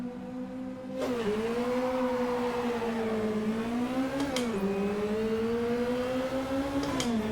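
A race car engine pulls away off the line up Goodwood Hill in Assetto Corsa, its steady whining drone rising and dipping through gear changes, close and continuous.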